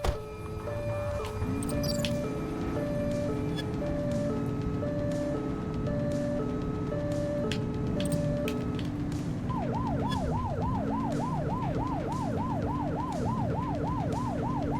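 A police siren wails through a car pursuit in The Precinct. Its steady two-tone cycle switches partway to a fast warbling yelp over the rumble of engines, loud and continuous.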